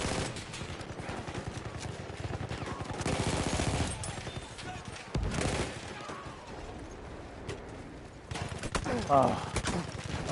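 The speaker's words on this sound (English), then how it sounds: "you're shooting a lot of bullets and I'm still alive" Rapid bursts of automatic gunfire from the Battlefield 1 shooter game, including a Sweeper weapon, loud and dense over about ten seconds with a brief pause, while a player talks throughout.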